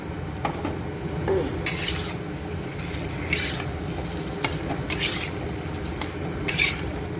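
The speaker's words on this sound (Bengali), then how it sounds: "এখন আমি ওর মধ্যে পনিরটা দিয়ে দেবো।" Paneer goes into cooked masala in a pan: a spoon clinks and scrapes against the pan in several short, separated bursts over a steady low background hum.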